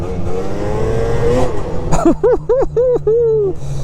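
An Arctic Cat 600 Catalyst snowmobile engine runs with a steady drone, then fires off a quick series of rising, punchy revs as it accelerates, loud and close.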